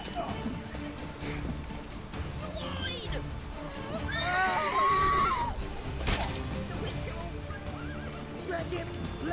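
A horse whinnies loudly in The Witcher 3 amid clattering hooves, clashing impacts and game music, with voices shouting over the commotion.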